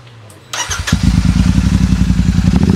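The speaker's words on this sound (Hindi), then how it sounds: "और अब मैं सुनाता हूँ आपको एग्जॉस्ट की साउंड जो मैंने बताया आपको एग्जॉस्ट के अंदर हैरिकेन का लगाया गया" A Royal Enfield Super Meteor 650 with an aftermarket stainless steel exhaust starts up loud and close, settling into a throbbing, rhythmic idle.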